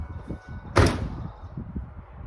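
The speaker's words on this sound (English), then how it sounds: "I shut the hood" A truck hood slammed shut on an auction-bought truck, one sharp metallic bang close by amid quiet background noise.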